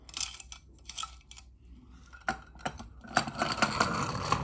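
Vintage Willie Walker wind-up toy robot shuffling along, giving bursts of tinny metallic clicking and clattering in quick irregular runs that grow busier and denser toward the end.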